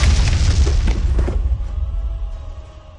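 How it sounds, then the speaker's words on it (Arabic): An artillery shell explodes in a single loud boom that rumbles and decays over a couple of seconds, close and heavy, with no voices over it. "بس هذا صوت قذيفة"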